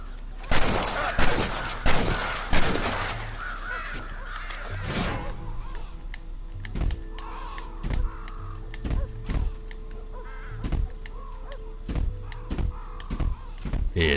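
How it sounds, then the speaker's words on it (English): Many crows caw in the Red Dead Redemption game, loud repeated calls at first, then sharp distant gunshot-like cracks at intervals over a steady background, no speech. "Oh, good lord, that is a whole lot of crows."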